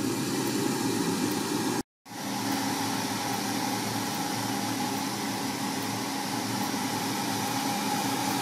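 An electric food dehydrator drying figs, its heater set to 2 at about 463 watts, gives off a steady whirring hum with a momentary silent break near the two-second mark before resuming evenly.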